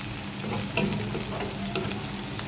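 Fenugreek leaf sabzi with coriander being stirred in a hot pan, a continuous close sizzle and fry with soft spatula scrapes and a couple of sharper knocks.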